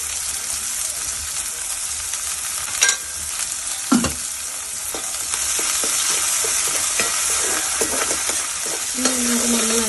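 Onions sauté with a pinch of salt in a pan for a spicy Kerala pork roast, a loud continuous hiss under repeated stirring scrapes and knocks, one sharper clatter partway through, and no voices.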